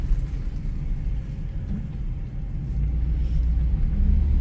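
A 1975 Oldsmobile Cutlass with about 9,400 original miles drives along, its low, steady engine rumble and road noise filling the cabin evenly, with no voices.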